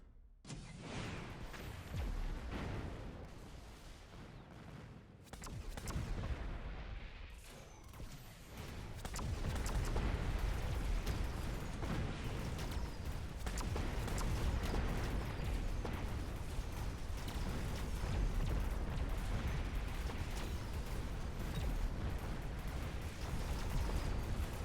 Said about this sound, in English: Oh my god, look at all these missiles.